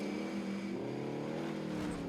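Car engine in the Call of Duty Warzone video game, a steady droning hum with shifting pitch that holds at an even loudness through the whole stretch, with no talk over it.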